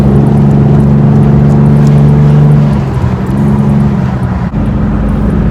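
A Nissan 350Z with a large oil leak, its engine droning steadily and loudly as the car drives, the low tone dropping slightly partway through with a brief bump near the end.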